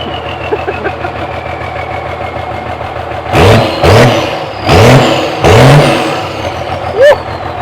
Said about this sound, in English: She starts up, runs great. It revs out really freaking quick